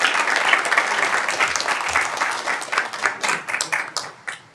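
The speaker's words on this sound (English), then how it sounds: "Round of applause for all our finalists." Audience applauding poetry finalists at a youth poet laureate commencement event, steady broad clapping from a crowd that thins and grows more scattered toward the end.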